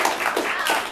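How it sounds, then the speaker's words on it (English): A comedy club audience at a stand-up show claps briefly, a short burst of close, dense applause with no talk over it. "You can't guilt the audience into clapping."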